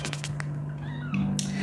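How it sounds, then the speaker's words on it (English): A stray-turned-foster mother cat nursing nine kittens gives a couple of short meows close by, over a steady low hum in an enclosed space. "She's a foster cat."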